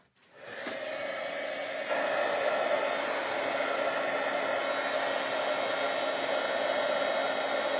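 A heat tool blows hot air steadily over gold embossing powder in a craft session, a continuous loud whooshing hiss with a faint hum that rises at the start and stays even, with no talking.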